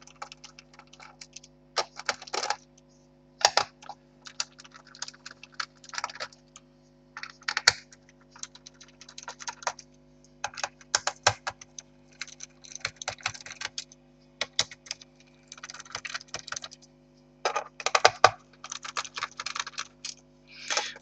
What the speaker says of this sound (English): So we just have to remove all the screws.